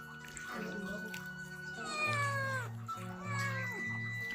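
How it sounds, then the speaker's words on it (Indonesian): A pet cat in a home kitchen meows repeatedly, several drawn-out, descending cries close by, layered over a low steady hum and faint household noise. "Kucing saya."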